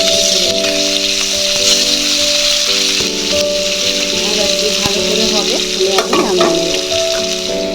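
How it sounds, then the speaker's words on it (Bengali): Pieces of katla fish fry loudly in hot oil, a steady close sizzle and crackle with the clink of a spatula stirring now and then. "মাছটা আমার ভাজা হচ্ছে"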